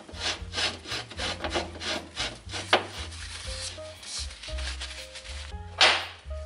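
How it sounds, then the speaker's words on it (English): A cloth rubs excess grease off a tapered wheel bearing on a 1965 Mustang, producing repeated close scraping strokes in a loose rhythm over a steady tonal background. "Wipe off the excess."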